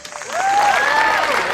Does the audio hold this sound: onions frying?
no